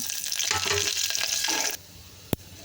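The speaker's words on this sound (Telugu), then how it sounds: "చూడండి ఇది మొత్తం ఫ్రై అయిపోయింది" Tempering spices fry in hot oil, sizzling and crackling loudly for a couple of seconds, then cutting off abruptly, followed by a single sharp clink.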